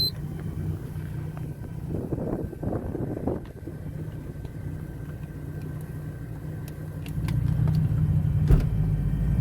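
A boat engine driving a Volvo Penta SX-M outdrive runs as a steady low drone with wind buffeting the microphone, swelling louder near the end.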